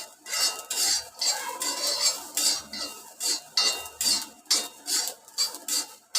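Poppy seeds and grated coconut dry-roasting in a pan for a Malvani onion-coconut masala, with rhythmic scraping and clinking of a metal spoon stirring, loud and close, in repeated bursts.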